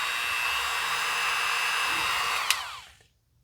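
A small power drill whirs steadily while boring into a plastic starship model kit, a continuous high whine that spins down and stops near the end.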